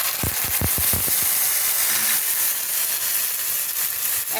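Paste of fennel, ginger and green chili drops into hot oil already tempered with asafoetida for a Bengali biulir dal, giving a few sharp spits and crackles before settling into a soft, steady sizzle.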